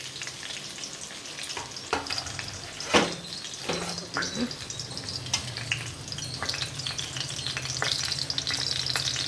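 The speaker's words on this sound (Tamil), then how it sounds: "இப்போ கொஞ்சமாக எண்ணெய் விட்டு வச்சுருக்கோம் இப்போ வந்து நம்ம இந்த பெசரி வச்சுருக்கோம் இல்லையா கொத்தரங்காய் பருப்பு தேங்காய்லாம் அதெல்லாம் இதில் போட்டுடலாம்" Cluster beans, lentils and grated coconut fry in a little coconut oil, a steady broadband sizzle with scattered stirring clatters and a sharp utensil knock near the three-second mark, continuous throughout without speech.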